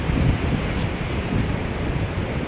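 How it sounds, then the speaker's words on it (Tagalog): Strong ocean waves surge on a windy, rainy coast, a continuous loud roar of surf mixed with heavy wind buffeting the microphone throughout. "Malakas na po ulit ang alon."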